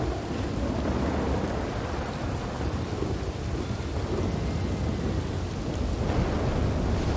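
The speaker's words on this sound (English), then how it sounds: "Maybe it was thunder." A storm rages in Detective Academy, with heavy rolling thunder rumbling low and continuous beneath steady rain, loud and close for the whole stretch with no one talking.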